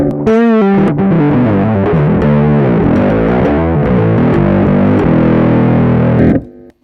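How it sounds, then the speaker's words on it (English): Bass guitar played through a Radial Tonebone Bassbone overdrive pedal on a mid-heavy setting, giving a gritty, cutting distorted tone; a sustained run of notes plays loud and close, with no talking, ending abruptly. "So that's a more cutting overdrive sound."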